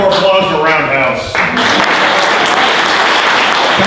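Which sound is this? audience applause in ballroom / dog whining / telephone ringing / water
audience applause in ballroom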